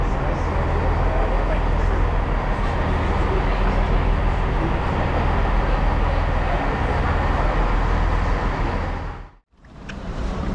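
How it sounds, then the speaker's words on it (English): A train stands at Norwich station, giving off a steady, loud low rumble with a droning hum that fills the air until a brief drop near the end. "This is the train we was on."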